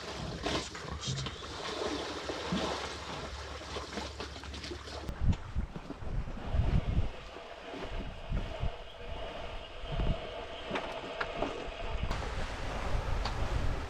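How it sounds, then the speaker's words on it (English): Wind and choppy waves slap against a sailing boat at anchor, wind-against-tide conditions with about 10 knots from the south, making a continuous gusty rush with irregular splashing thumps and heavy microphone buffeting. "Got wind waves against the tide now, and 10 knots from the south."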